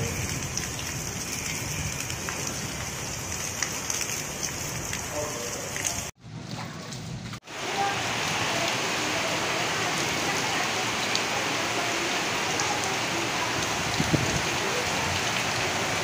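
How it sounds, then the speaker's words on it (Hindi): Heavy rain pours steadily with a dense, constant hiss and roar of strong wind over farmland in Akola, with a short break partway through before the downpour resumes. "तेज हवा और बारिश का मंजर।"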